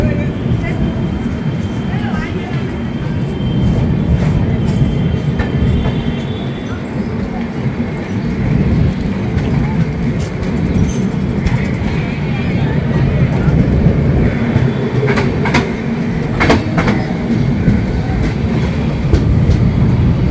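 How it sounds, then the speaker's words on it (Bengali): Interior of the Kolkata–Jaynagar weekly express in a 3AC coach leaving Sakri Junction, a continuous rumbling roll with intermittent clicks and clatter of wheels over rail joints. "আমাদের ট্রেনের পরবর্তী হল্ট সাকরি জংশন ছাড়লো।"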